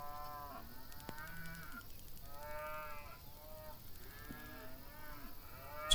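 Cattle in the farm simulation game Farm Manager 2021 moo repeatedly, several long overlapping calls in a loose rhythm, fairly clear against a quiet background.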